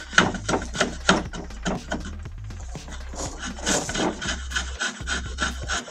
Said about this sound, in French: Là c'est vraiment de faire glisser la lame dessus, et de venir enlever copeau par copeau.